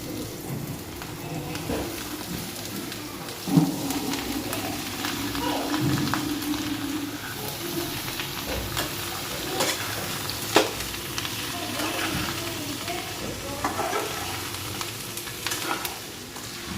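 Onion with cumin fries lightly alongside chopped snake gourd in a pan, a steady close sizzle broken by stirring scrapes and a couple of sharp knocks, with no speech.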